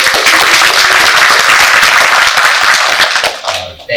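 Loud, dense applause from a SIGGRAPH 2025 conference audience, a thick roar of many hands clapping at once for a few seconds before tapering off abruptly.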